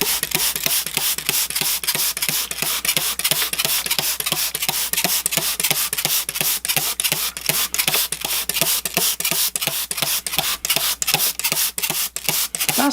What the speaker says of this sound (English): So here I go with the sprayer.